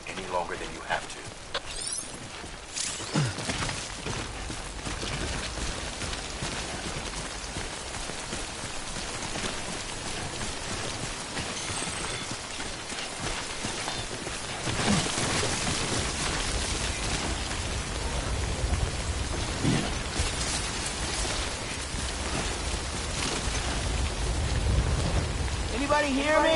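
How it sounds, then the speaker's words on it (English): Timefall rain in the video game Death Stranding pours steadily with a dense hiss, swelling heavier in bursts, with a voice speaking over it at times. "Don't stay out in the rain any longer than you have to."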